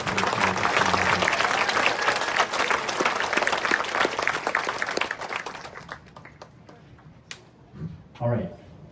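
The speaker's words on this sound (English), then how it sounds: "let's get another round of applause for our parents and everybody" Audience applause and cheering fill a community performance hall, loud and sustained for several seconds before tapering off, with a few voices and scattered claps lingering at the end.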